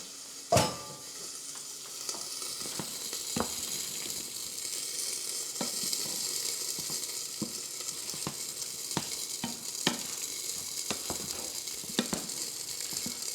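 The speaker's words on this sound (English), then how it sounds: "Stir it up so the sauce gets on everything." Steady close sizzling of beef and broccoli in thickening sauce in a pan, with repeated light scrapes and clicks of stirring throughout, no voices.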